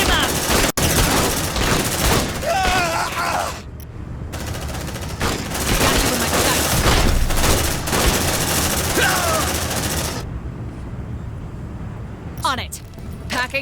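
Rapid automatic bursts from a deployed sentry gun in the sci-fi strategy game Aliens: Dark Descent, loud and sustained with brief gaps, mixed with combat noise and shouted voice lines.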